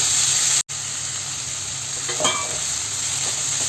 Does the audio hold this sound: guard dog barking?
no